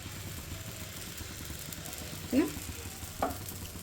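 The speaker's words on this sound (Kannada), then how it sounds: "ಇದನ್ನು ತೆವ ಮೇಲೆ ಜಸ್ಟ್ ಈ ಥರ ಹಾಕಿ" Holige flatbread laid on a hot tava gives a soft steady sizzle, with two sharper scraping thumps partway through and a low rumbling background.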